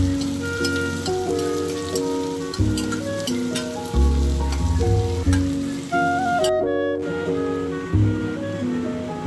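Onions and green chilli paste frying in a pan for a North Karnataka besan curry (junka), a steady close sizzle with occasional stirring scrapes, with no talk.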